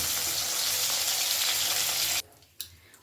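Raw green banana pieces fry in oil left over from frying rohu fish, a loud steady sizzle that cuts off sharply near the end, followed by quiet and one small clunk.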